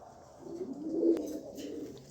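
A single pigeon gives a soft, rolling coo, quiet and close, rising and fading over about two seconds against a hushed background.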